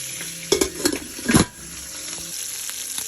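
Fish frying in hot oil gives a low, steady sizzle, broken near the start by a few sharp clattering bursts of stirring in the pan, then settling back to a quiet hiss.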